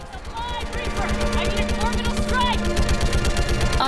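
Rapid gunfire rattles through a firefight in Mass Effect 3 on Rannoch, with steady repeated shots running under game music and effects throughout.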